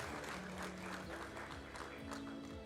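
Archery fans at a World Cup compound final in Antalya cheer and applaud for a Turkish archer, a steady crowd roar of clapping heard faintly at a distance.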